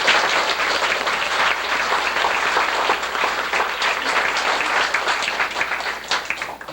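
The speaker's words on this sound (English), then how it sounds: "I'd like to have a big round of applause" A large crowd applauds loudly and continuously, dense overlapping clapping that holds steady before starting to thin out at the very end.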